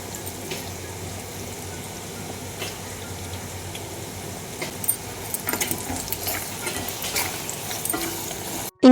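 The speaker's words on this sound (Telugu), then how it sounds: "అలా నేను పులిహోరకి తాలింపు పెట్టేశా" Spices tempering in hot oil for pulihora, a soft continuous sizzle with light stirring and scattered pops and clinks close by.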